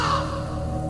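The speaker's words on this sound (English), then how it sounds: "A crow's caw, if heard at night, is believed to be a bad omen in some cultures." A single crow gives a short, loud caw close by in a forest, cut off quickly with nothing else around it.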